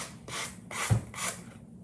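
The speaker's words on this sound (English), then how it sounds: "I'm actually sanding it as I go" Rhythmic scratchy rubbing of sandpaper on a wooden shelf riser by hand, three or four close back-and-forth strokes at a steady pace.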